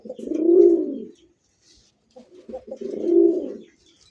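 A male pigeon coos twice, close and clear, each a rounded low throaty call lasting about a second, separated by a short pause with faint soft sounds before the second coo.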